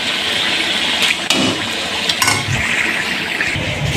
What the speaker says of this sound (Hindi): अब हम इसमें हमने यखनी ऐड कर दी, आप देख सकते हैं।